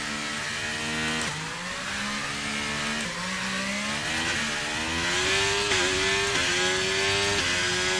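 Ferrari Formula 1 car in the F1 23 racing game launching off the line, engine pitch rising in steady gear-by-gear sweeps with short dips at each upshift, loud and continuous with no talk.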